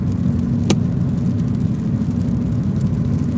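Car cabin on the road, a steady low engine and tire rumble with a constant whir, heard from inside the moving vehicle, with one brief tick near the start and no talking.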